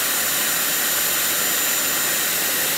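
A Dyson Airwrap hair styler with long barrels blows hot air over damp long hair, a steady loud broadband whoosh of airflow that holds constant throughout without any talking.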